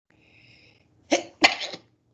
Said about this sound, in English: I'm having allergy issues, so I may be sneezing and coughing a little bit